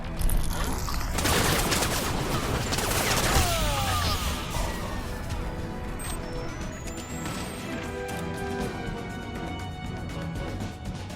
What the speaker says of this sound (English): they're shooting at Psycho there